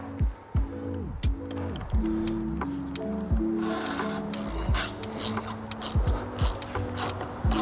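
A ratchet on a long extension fitted with a 27 mm socket turns loose the oil filter on a 2020-2023 Jeep Wrangler, giving repeated bursts of close, loud clicking with short pauses between strokes.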